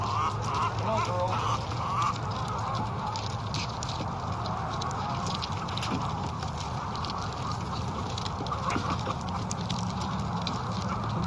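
Isa Brown hybrid chickens are let out of a coop onto pasture. A steady, busy clucking and squawking from the flock runs throughout with scratching and patter, close and fairly loud, with no talk.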